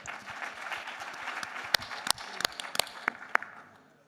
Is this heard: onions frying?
no